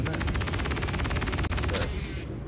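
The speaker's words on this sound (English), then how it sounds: "I'm on the machine gun, isn't it?" Rapid, sustained machine-gun fire from a vehicle-mounted gun in the Star Citizen space game, a dense unbroken rattle for most of the clip that cuts out near the end, leaving a steady engine roar.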